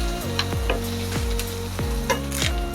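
Food being sautéed and stirred in a frying pan on a Kerala breakfast stove, a constant close sizzle broken by several quick scraping strokes of a spoon against the pan.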